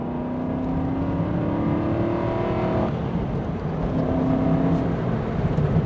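An Aston Martin V8 Vantage engine revs up, drops back, then climbs again, a throaty rising and falling drone with no talking.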